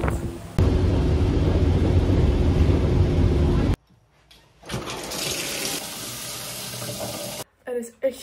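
A home shower runs after a day at the beach, a loud, steady rush of spraying water that cuts off abruptly, then resumes more unevenly before stopping again, with no talking.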